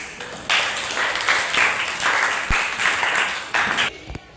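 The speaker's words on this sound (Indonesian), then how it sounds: "untuk semuanya kita beri aplaus terlebih dahulu" A classroom audience applauds a student group in steady, dense clapping that holds loud and even for several seconds, then thins out into a few last claps.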